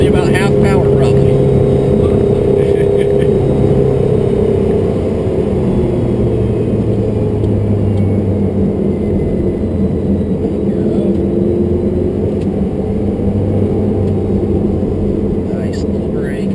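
A million-dollar Spyder sports car accelerates in a steady, loud engine drone with rising tones, heard from inside the car while a person talks over it throughout.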